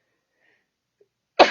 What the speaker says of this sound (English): I think I might sneeze, so excuse me if I do.